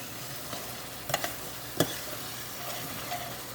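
Vegetables and a chickpea gravy sizzle softly and steadily as they are tempered in hot oil. A few light clinks of stirring sound up close, with no speech.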